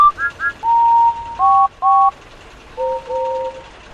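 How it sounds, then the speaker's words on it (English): Steam train engines whistle in a series of short, clear high tones, several rising and falling blasts in quick succession followed by longer steady calls, loud and close with no talking. "The engines whistled."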